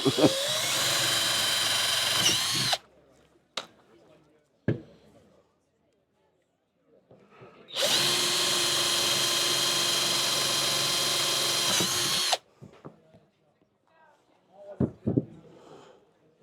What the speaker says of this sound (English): Try not to drill a hole in Colin's table